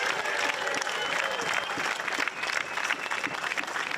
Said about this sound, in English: let's hear a huge round of applause for our